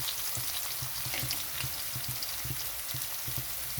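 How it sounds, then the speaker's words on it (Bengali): Potatoes frying in a pan, a steady close sizzle with soft rhythmic crackling and faint stirring, heard alone without speech. "এখানে আলুটা একটু ভাজা হয়ে গেছে"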